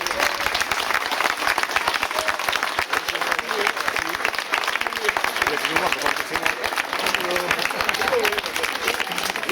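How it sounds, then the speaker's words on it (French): A large audience gives a sustained, dense round of applause. The clapping is loud and close, with crowd voices mixed in throughout. "Je pense qu'on peut leur réserver une très belle ovation."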